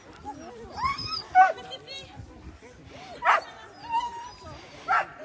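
A sled dog at the start of a sled-dog race in the Vercors whines and yips in short bursts, with a few sharper barks, while people talk close by.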